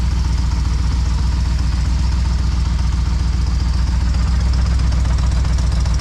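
A steady idle from a 454 big-block engine in a Civic with a worn clutch throwout bearing, a constant rough, rattling hum that stays loud and unchanged throughout.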